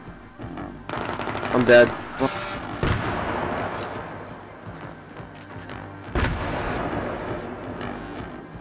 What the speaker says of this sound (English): I'm getting a shot from four fucking different places